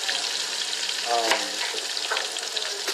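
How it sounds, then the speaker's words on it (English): Steady sizzling and crackling of vegetables sauteing in bacon grease in a hot pan, with a faint voice briefly in the background. "I'm sauteing it in the bacon grease"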